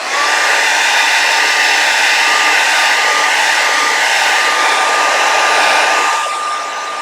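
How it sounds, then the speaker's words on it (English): A hair dryer blows loudly and steadily with a high whine, drying acrylic paint, then eases off slightly near the end. "I'm just gonna take my blow dryer and blow dry them."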